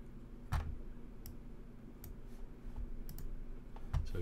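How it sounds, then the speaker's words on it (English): Sparse computer mouse clicks while working in a 3D effects tool, several faint sharp ticks spaced irregularly over a low background hum, without speech. "So I'll click on the color swatch."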